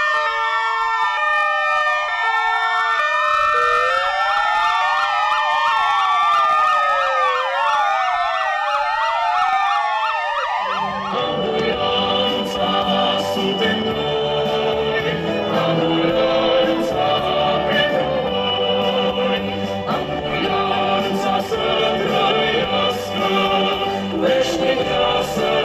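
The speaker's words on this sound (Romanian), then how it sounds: "Sirenele ambulanțelor din toată țara au început astăzi să răsune fix la ora 11." Ambulance sirens wail loudly across Romania during a coordinated paramedics' protest, a single clean siren sweep giving way to many overlapping sirens joined by a dense mix of horns and noise, steady and close throughout.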